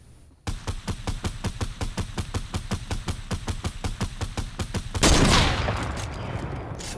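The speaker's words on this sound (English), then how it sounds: "Someone else is shooting at him?" Rapid automatic gunfire in an online shooter video game, a long, evenly spaced burst of loud shots for about four and a half seconds, followed by a heavy explosive crash and a rumbling, fading tail.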